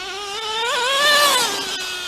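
A Traxxas Slash Nitro RC car with a nitro engine makes one close run-by, its high-pitched buzzing whine swelling and bending in pitch as it passes, then fading, with no voices.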